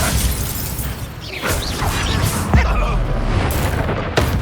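A Bombarda spell blasts off in the Hogwarts Legacy video game, a booming explosion landing amid ongoing combat noise, with crashes and shattering debris, several sharp impacts spread across the fight.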